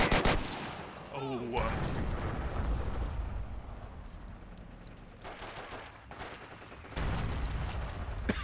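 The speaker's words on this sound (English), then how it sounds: "I can't hit anybody with a sprang gun." Gunfire fills a Forgotten Hope 2 multiplayer battle on Gold Beach, with sharp repeated shots and bursts, a loud blast near the start and another near the end, and a dense rumbling war soundscape in between.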